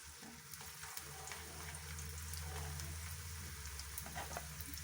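Spring rolls fry in hot oil over medium heat, a soft continuous bubbling sizzle with scattered pops, fairly quiet and close, with no voices.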